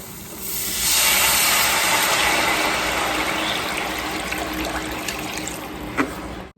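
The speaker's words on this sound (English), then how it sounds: "Now we're going to go in with our beef broth." Beef broth poured into a hot skillet over a flour roux, a loud steady hiss and sizzle of liquid hitting the pan that swells quickly and holds, with a faint clink near the end.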